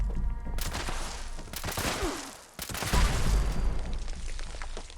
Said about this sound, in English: I was taking a few shots to kill these guys